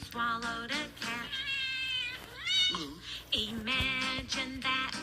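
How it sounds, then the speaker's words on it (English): A cat meowing repeatedly amid a sung children's rhyme, with drawn-out wavering meows and caterwaul-like cries mixed through the singing voices, close and fairly loud throughout. "I know an old lady who swallowed a cat."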